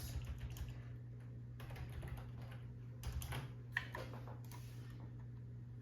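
Quiet clicking of keys on a computer keyboard, typed in short uneven bursts under a steady low hum in a quiet room.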